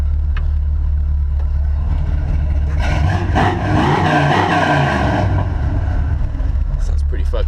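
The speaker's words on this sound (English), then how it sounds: "I'm going to fire it up here." A 1972 Ford F250 Highboy 4x4 with a 390 engine runs with a loud, steady low rumble close by, briefly rising in a rougher surge midway, with someone talking over it.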